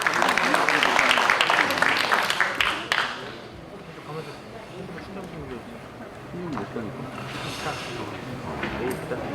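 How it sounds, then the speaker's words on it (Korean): Audience applause at a Chungcheong Confucianism international conference panel discussion, loud dense clapping for the first three seconds, then fading into quieter room noise with scattered claps and murmuring. "큰 박수 부탁드리겠습니다."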